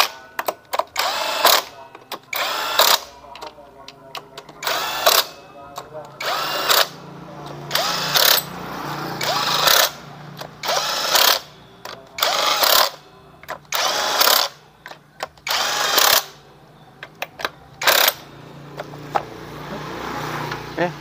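A Honda Beat FI scooter engine running rough, heard as a series of sharp revving bursts roughly every one to two seconds separated by quieter ticking idle.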